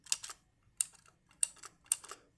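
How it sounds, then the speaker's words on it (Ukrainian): Four distinct, fairly quiet clacks of a Vinga KBGM 100 mechanical keyboard spacebar with blue tactile switches, evenly spaced with short gaps between presses. "Так звучить пробіл."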